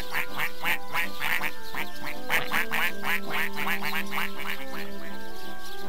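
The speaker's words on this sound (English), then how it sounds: "Relaxing ambiance. Ducks." Ducks quacking in the Sega CD game Panic, a rapid, loud run of nasal quacks over a steady droning tone, repeating in quick bursts.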